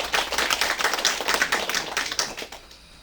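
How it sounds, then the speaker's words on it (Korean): An audience at a campaign office opening ceremony in Gangneung claps in a dense, continuous burst of applause for about two and a half seconds, then it tapers off. "다시 한번 큰 박수 부탁드립니다"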